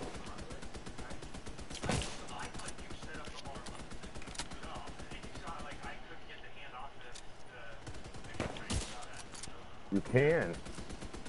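Rapid turret gunfire in a video game, a steady fast stream of shots running throughout under voices talking, with a few louder bursts standing out.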